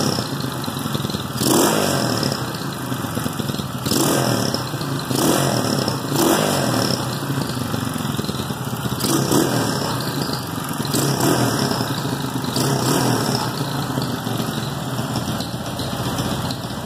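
A carbureted, gasoline Honda Twister-based 248cc motorcycle engine, bored from 70mm to 74mm, revs repeatedly in loud, regular bursts over a rough idle, close by.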